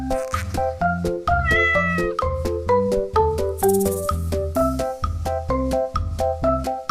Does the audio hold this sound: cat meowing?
yes